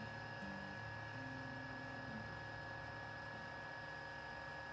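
A small Chinese wind turbine spinning in the wind gives a steady, even mechanical whine and hum with a low droning undertone, continuous and unbroken throughout.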